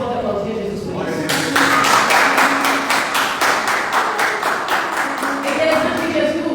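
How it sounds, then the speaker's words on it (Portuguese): Church congregation clapping in rhythm, a steady beat of hand claps close and loud over about five seconds, with singing or voices underneath. "Será que você pode aplaudir Jesus por isso?"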